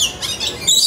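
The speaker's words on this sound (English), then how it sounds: "That is such a huge macaw." A large macaw at a zoo bird exhibit lets out a loud, harsh, rasping squawk at close range, one continuous grating call running about a second with no one talking.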